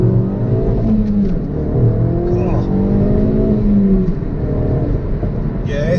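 Ford Focus RS pulling hard in first gear, its engine note rising in steady harmonic sweeps that fill the cabin, with voices talking over the strong acceleration.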